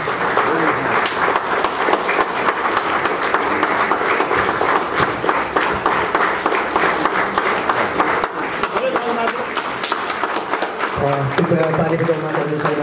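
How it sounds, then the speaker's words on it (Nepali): Sustained audience applause fills an honouring and felicitation ceremony for Grand Master Tulsi Kumar Gurung, steady dense clapping from a large crowd with a voice speaking over the end. "कृपया ताली बजाउन गरिदिनु होला।"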